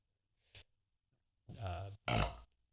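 A burp made close into a microphone, a short grunt-like blip followed by two longer, loud voiced belches in quick succession, alone in a quiet room.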